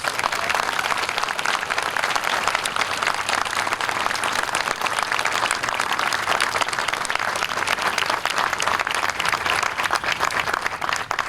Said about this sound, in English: Please join me in giving all of our distinguished guests a huge round of applause